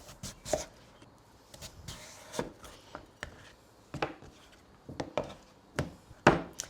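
A heavy knife cuts a vegetable neck into half-inch planks on a wooden board, giving a string of close, sharp thunks at an uneven, unhurried pace, with no voices.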